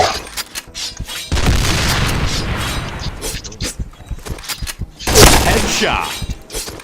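Grenade blasts boom in a video game, several heavy explosions with shattering debris scattered across the stretch, mixed with busy game noise and a player's voice.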